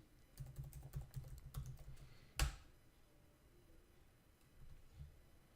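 Quick bursts of keystrokes on a computer keyboard while entering a spreadsheet formula, a rapid clicking run followed by one sharp louder tap and a few scattered keys, close and fairly quiet with no talking.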